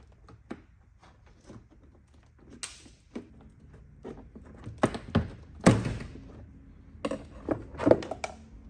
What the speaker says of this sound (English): I begin with my plastic trim tool. I slide in and I find an opening.